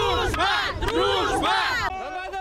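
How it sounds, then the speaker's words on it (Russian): Fans from a district town chant and roar loudly for their team at a local sports competition, a dense crowd of voices rising and falling in big surging waves. "Так и рьяно и громко поддерживают свою команду болельщики из районного центра"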